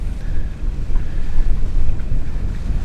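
Catamaran motoring out at sea into a light headwind of about five or six knots, several miles offshore: a steady low engine and hull rumble mixed with wind buffeting the microphone and water wash, continuous and fairly loud with no talk.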